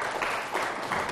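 Steady clapping from a crowd, a continuous patter of many hands with slight swells, no voices standing out.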